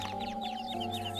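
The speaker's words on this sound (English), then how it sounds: "Birds." Several cartoonish game birds cluck in quick overlapping chirps over a steady humming musical drone, fairly close and continuous, in the dark fairy-tale game American McGee's Grimm, without any speech.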